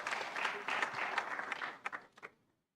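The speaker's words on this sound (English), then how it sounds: "Give her a round of applause." Audience applause at a World Maritime Day event session, steady clapping from a crowd that fades out over a couple of seconds to silence.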